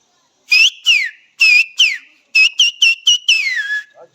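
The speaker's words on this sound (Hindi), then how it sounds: "मैं अभी सीटी बजाऊं।" A person whistles in the Sharan forest: about nine clear, close melodic notes with rising and falling slides, grouped in short bursts and ending in one long gliding note, with no talk.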